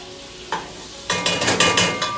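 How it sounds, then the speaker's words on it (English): Melted butter and all-purpose flour being stirred together into a roux in a pan, giving a soft sizzle with scraping strokes of the spoon that come in quick close bursts. "add a 1/4 cup of all-purpose flour and mix that together until it makes a paste"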